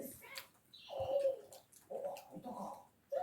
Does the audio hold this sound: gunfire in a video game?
no